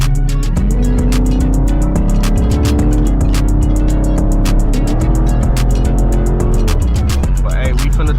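A Dodge Scat Pack on a Chicago highway, its exhaust crackling and popping in rapid repeated bursts over a loud, continuous engine drone, recorded from inside the car.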